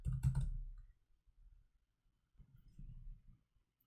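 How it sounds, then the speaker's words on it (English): Someone typing an email address on a computer keyboard, with a quick burst of close key clicks at the start, a few scattered taps, then another short run of keystrokes. "you can add a person simply by typing their email address"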